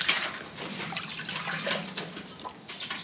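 Salted napa cabbage lifted from brine for summer kimchi, water splashing and dripping back in a close, steady wet patter with small bursts of trickling.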